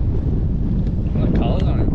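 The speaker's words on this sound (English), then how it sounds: "That wind is terrible." Strong wind buffets the microphone out on open water during flats fishing, a loud continuous low roar filling the clip, with faint voices barely showing through near the end.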